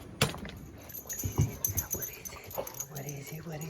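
Puppy whimpering and whining in short bursts close by, mixed with soft panting and movement noises, while someone talks to it warmly.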